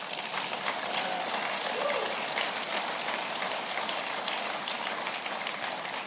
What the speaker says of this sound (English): Give God a round of applause with that.